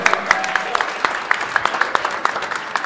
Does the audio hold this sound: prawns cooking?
no